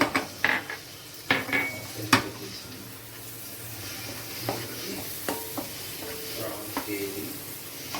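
A metal spoon clatters and scrapes in a pan while prawns and tomato fry with chili, turmeric and salt. Sharp knocks break up the first few seconds, then lighter stirring continues over a soft sizzle.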